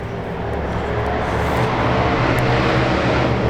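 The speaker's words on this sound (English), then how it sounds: "Got a lot of Harley Davidsons going past on the main road." Loud, broad engine roar from Harley-Davidson motorcycles passing on a nearby main road, a continuous rumbling wash of noise with no talking.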